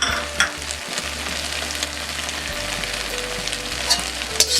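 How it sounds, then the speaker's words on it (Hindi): Gobi Manchurian with green onion and salt being stirred in a hot pan, a close continuous sizzle with scraping stir strokes and a few sharper clinks near the end. "अब इसे मिक्स कर लेते हैं"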